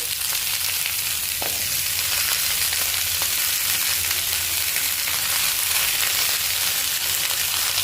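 Carrots and radish fry with green chili and ginger paste in a pan for winter vegetable khichdi, a loud, steady, continuous sizzle running throughout without a break.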